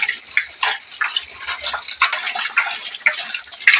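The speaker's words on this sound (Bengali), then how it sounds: "থোরটাকে আমি ভালো করে ধুয়ে নেবো" Banana stem and potato are rinsed by hand in water, giving close, choppy splashing and sloshing that ripples on without pause for a few seconds.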